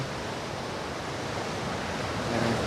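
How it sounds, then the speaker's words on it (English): Ocean surf rolls onto the beach at Port Douglas, a loud continuous wash of breaking waves with a slight swell near the end and no voices. "Also I will give you some ASMR of the waves, sound of the waves."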